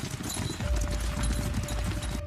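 Hooves of a herd of horses clip-clop steadily in a dense, continuous patter, fairly close and moderately loud, with a faint tonal hum running underneath.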